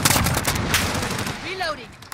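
Gunfire in the Modern Warfare Survival game: rapid, loud machine-gun bursts with dense automatic shots, followed by a short rising whine and a couple of final sharp shots.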